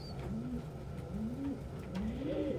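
A pet pigeon coos close by in three soft, rolling coos in a steady rhythm, with no talk over it.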